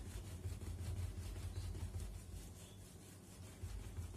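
Steady scrubbing of burnt, dried grease stains on a stovetop, a close rasping rub that repeats in a quick back-and-forth rhythm, faint and continuous, with no talking.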